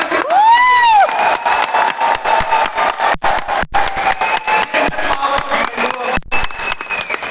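A stadium audience at the IMC Lakshya 2026 event in Thyagraj Stadium, New Delhi, cheers loudly with whoops and rapid clapping, close and continuous from start to finish.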